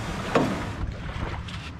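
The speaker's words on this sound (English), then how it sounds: "We go full throttle by the no wake buoy." A jon boat runs at full throttle across a lake, its motor a steady broadband roar mixed with wind and water rush, close and constant throughout with a brief louder splash near the start.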